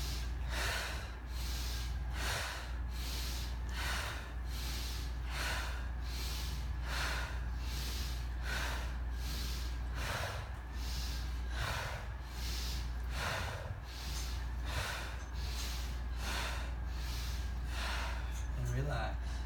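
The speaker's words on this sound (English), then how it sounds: "Let's do 14 breaths." Deep breathing exercise with a rhythmic series of forceful breaths, each a sharp sniff-like rush of air repeating at a steady pace, close and clear.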